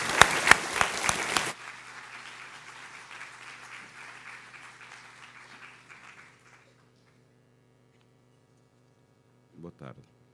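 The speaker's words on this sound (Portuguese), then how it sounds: "Uma salva de palmas, por favor." An audience at a literary event in Porto applauds: a short burst of dense clapping that quickly dies away into scattered claps and a low room hum, then quiet.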